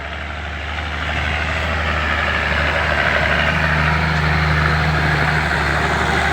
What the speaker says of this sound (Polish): Ten bulgot silnika Maseja jest przepiękny.